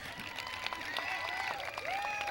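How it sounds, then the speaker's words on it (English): Scattered, fairly quiet clapping comes from the audience at a 2002 high school commencement ceremony. Whoops and raised voices float over it, rising and falling in pitch. "Go ahead, you can applaud."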